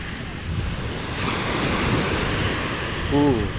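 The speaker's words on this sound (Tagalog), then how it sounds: "laki ng alon dito" Rushing surf and ocean waves of Manila Bay roar continuously with wind buffeting the microphone, a brief voice-like tone rising near the end.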